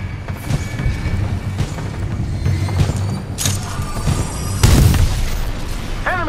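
An enemy Titan is destroyed in Titanfall 2 amid ongoing combat, with a series of heavy booms and crashing impacts over rumbling machinery, the loudest blast landing near the end.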